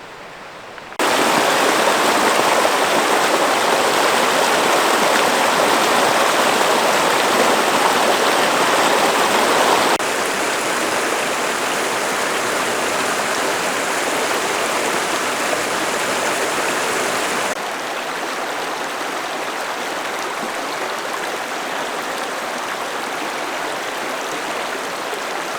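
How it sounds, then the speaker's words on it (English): Creek water rushes steadily past a rest stop in Arizona, a close, full, hissing flow that holds constant throughout, shifting slightly in loudness twice as the listening position changes, with no talking. "Let's walk down to the creek."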